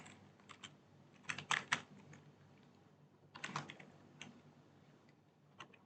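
JavaScript code being typed on a computer keyboard, heard as quiet close key clicks in irregular bursts with louder clustered keystrokes and short pauses, with no talking.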